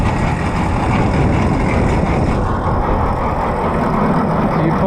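Oliver 471 manure spreader runs with its gearbox and bottom beater turning while the clutch is tried, a loud steady mechanical rumble and rattle without pause.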